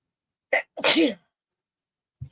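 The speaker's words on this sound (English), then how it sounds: "I don't know why when I come back here to this room, I just want to sneeze." A single loud sneeze, a sharp intake followed by an explosive burst, then quiet.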